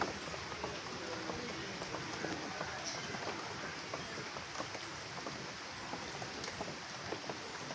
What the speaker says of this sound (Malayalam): മഴ നനയുവാണല്ലോ.